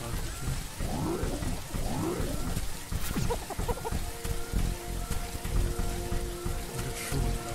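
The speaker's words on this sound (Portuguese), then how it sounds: "Olha que chuva pra lá." Rain pours steadily in The Riftbreaker, a dense close hiss of drops on surfaces, with brief bursts of other game effects and chirping tones mixed over it.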